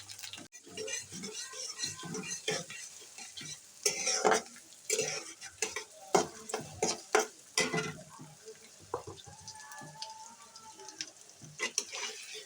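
Ginger-garlic paste frying in oil as the base for a meni fish and broad bean curry, with repeated scraping and clinking stirring strokes over a low sizzle, close and busy.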